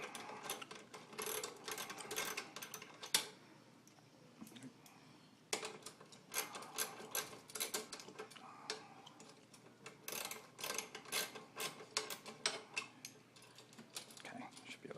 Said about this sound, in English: I'm just going to use my socket set.